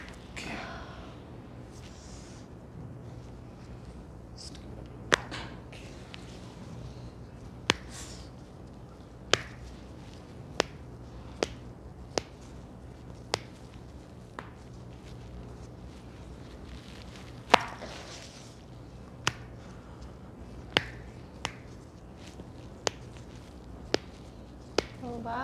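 Finger joints crack during a chiropractic finger adjustment, a string of sharp, isolated pops spaced a second or two apart over a quiet room with faint murmured talk.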